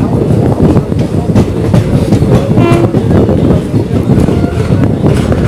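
The Chandigarh–Madurai Express train rumbles steadily along the rails, loud and close, with continuous clattering and a brief faint horn-like tone partway through.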